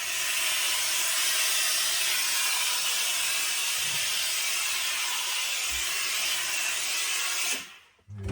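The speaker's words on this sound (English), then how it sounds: "I'm going to give it a bit more steam." Steam hisses loudly and steadily onto a felt trilby hat stretched over a hat block, a continuous bright rush lasting about seven seconds before it abruptly cuts off.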